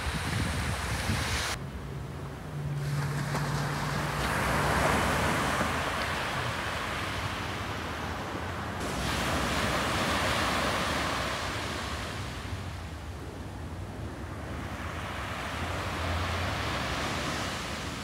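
Ocean waves wash and break on a beach in steady surges, with wind buffeting the microphone and a broad, roaring hiss that swells and recedes; no one speaks.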